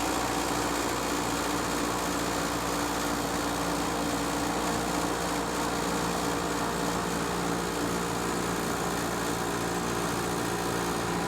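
A Norge air conditioner's compressor runs steadily, a dense, constant mechanical hum with a faint pulsing texture, heard close up and unchanging throughout.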